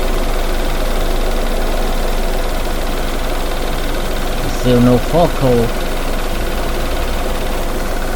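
A car engine with a check engine light on and a loss of power idles roughly, a steady droning rumble with uneven knocking underneath, while someone speaks briefly over it midway.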